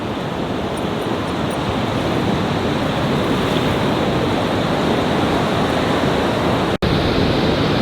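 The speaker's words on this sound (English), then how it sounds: "Now it's just this humongous deserted beach." Ocean surf roars in a loud, steady wash on a wide deserted beach at Neskowin, Oregon, beside the ghost forest, with wind noise buffeting the microphone throughout and a brief dropout near the end.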